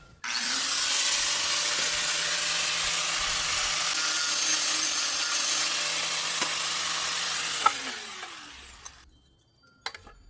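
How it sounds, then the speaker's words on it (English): An angle grinder notches a small cut into the fender of a DIY multi-purpose utility trailer, whining loudly and steadily for about eight seconds before spinning down, followed by a couple of faint clanks. "now we got to grind a small notch in these."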